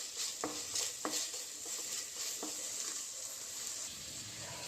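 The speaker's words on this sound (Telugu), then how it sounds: "మంచి రంగు వచ్చే వరకు వేయించుకోవాలి" Chopped okra (bhindi) fries in a pan for a tomato curry, giving a steady close sizzle with occasional spatula scrapes and taps against the pan and no talking.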